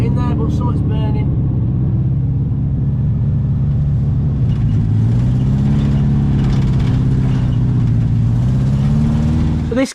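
An abandoned 1970s VW Beetle with its air-cooled engine running, long unused, gives a loud, steady mechanical drone that rises slightly partway through, with a person talking over it throughout.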